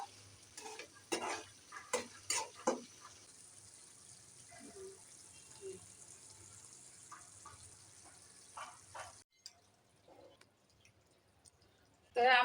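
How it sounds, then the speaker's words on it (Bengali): Eggplant cooked with a whole dried fish stirred in a pan, giving a burst of scraping, clicking stirs over a soft sizzle in the first few seconds, then quieter occasional scrapes, a pause and a loud knock at the end. "এখন একটু নেড়ে চেড়ে চুলাটা বন্ধ করে দেব।"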